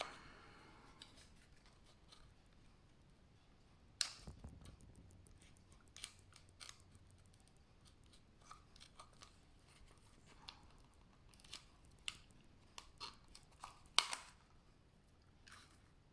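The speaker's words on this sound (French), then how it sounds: "Un petit coup de cutter et on n'en parlera plus." A utility knife trims excess fabric from a small handmade zip pouch, giving several short, crisp cutting and snipping strokes spaced through a quiet room, with a louder snap near the middle and another toward the end.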